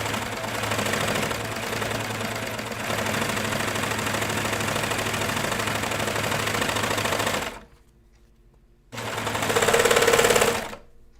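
A sewing machine stitching jeans runs in two steady bursts, a long even run and then a short one after a brief pause, with a dense mechanical whir close by and no talking.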